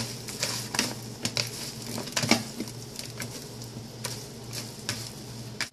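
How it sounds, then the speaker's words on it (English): Seasoned crown daisy, a Korean side dish, is tossed by hand with roasted sesame seeds, giving soft, close, irregular wet crunches and pats under a faint steady background hum, with no talking. "And then you're just going to mix it all together."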